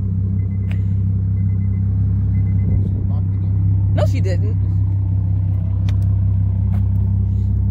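A Nissan 350Z HR with ISR test pipes idles in a loud, deep, steady rumble close by, while a few people talk briefly over it.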